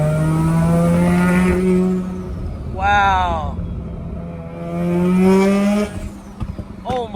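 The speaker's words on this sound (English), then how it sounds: "It really revs so easily now." A Mazda RX7's rotary engine revs hard through rising and falling sweeps inside the car, two sharp climbs standing out, while occupants talk and one exclaims.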